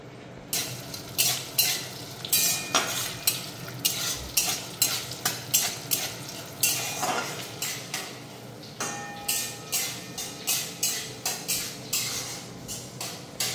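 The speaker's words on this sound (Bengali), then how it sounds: "এখন আমি এই গরম মশলাগুলো কড়াইয়ের মধ্যে দিয়ে দিচ্ছি।" Whole spices sizzle in hot oil in a wok while a utensil scrapes and stirs in a steady, rhythmic series of sharp strokes against the pan.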